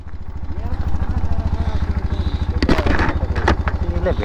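A motorcycle engine putters in a fast, even rhythm close by during a ride, with rattling clatter and a few sharp bursts near the end.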